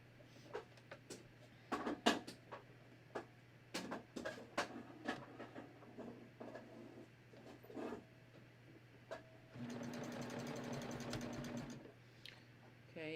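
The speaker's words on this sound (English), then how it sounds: "I'm going to just line up all my fabrics here, and I'm going to serge that" A serger sewing machine overlocks fabric pieces for a raglan sleeve top, starting with short bursts of stitching and handling clatter, then running in a sustained, fairly quiet whir near the end.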